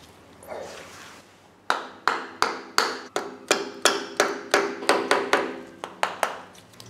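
Homemade blade set in a piece of wood, struck to cut old sealant off a Toyota MR2 gearbox oil pan: about fourteen sharp, evenly spaced knocks, loud and close.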